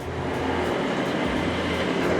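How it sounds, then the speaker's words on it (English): Big trucks passing on a road outside a woodshop, a steady loud continuous rumble and roar of traffic with no break, heard without any voices. "Big trucks drive by constantly."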